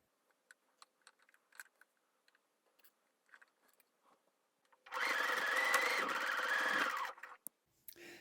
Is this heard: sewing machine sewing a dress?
yes